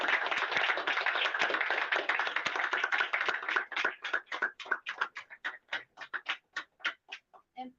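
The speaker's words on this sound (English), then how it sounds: "please let us do a big, big round of applause" Audience applause at a talk on W.E.B. Du Bois and Black Reconstruction, dense and sustained clapping at first, then thinning into a handful of separate, spaced claps that trail off near the end.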